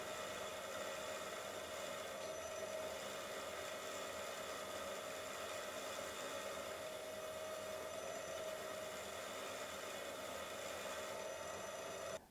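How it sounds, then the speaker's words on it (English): A steady, continuous mechanical whirring drone of a brush spinning at constant speed in a drill press, cleaning glue off clamps, loud and close, ending abruptly. "chucking a brush up in a drill press or pillar drill and using that"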